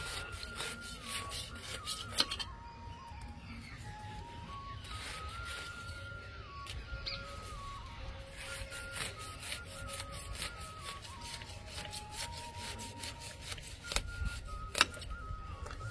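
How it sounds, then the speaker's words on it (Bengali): Cutting through the root pad of a rose plant: repeated scratchy rubbing and snipping sounds with sharp clicks scattered throughout, close and fairly quiet over a steady faint background tone. "এই রুট প্যাডটা কাটছি"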